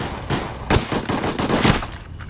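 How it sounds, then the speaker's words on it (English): Gunfire in the online shooter Ghost Recon Ghost War, a scattering of moderately loud shots and bursts at mid distance over steady game ambience. "Taking fire."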